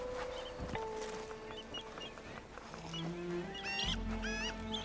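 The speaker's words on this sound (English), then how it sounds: "There's a lot of bird sounds." Honking, goose-like bird calls ring out in the Horizon Forbidden West game world, several distinct calls layered over ambient music and tones, moderately close and repeating across the scene with no voices.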